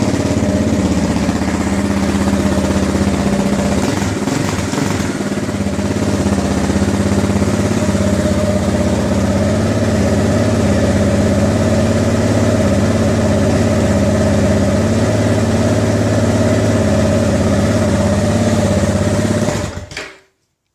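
A 2009 KTM 690 single-cylinder motorcycle engine idles steadily and loudly up close for about twenty seconds, running smoothly after a stalling fix and a fuel filter modification, then cuts off abruptly at the end.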